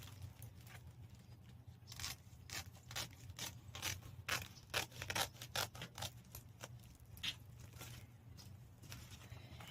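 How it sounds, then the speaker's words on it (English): Scissors snip and rustle through a plastic seed-starting bag being cut to length, a run of short crisp cuts and crinkles close up over a steady low hum, with no talking. "So I'm going to cut it because it is actually a bag. So I'm going to cut it this way first."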